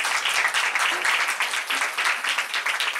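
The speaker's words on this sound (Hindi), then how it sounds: "सबको आ रहा है तो जोरदार ताली बजाएंगे।" A church congregation applauds during a sermon, a dense, steady burst of many hands clapping together that fills the whole stretch at even loudness, with no voices standing out.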